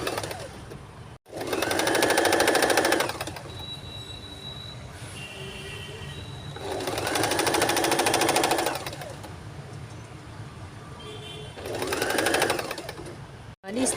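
A sewing machine stitches a newborn baby cap in three bursts of fast, steady whirring with quieter pauses between them, heard close up with no talking.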